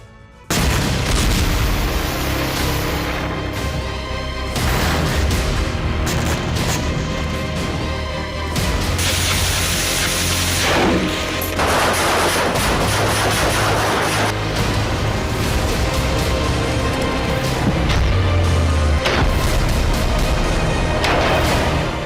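Explosions and gunfire in the Gaza war, loud continuous booms and bursts of firing layered densely together without pause.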